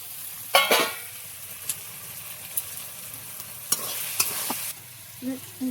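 Carrots stir-fried in a pan for chicken chowmein give a low sizzle broken by several sharp spatula scrapes and taps against the pan, with a faint horn outside near the end.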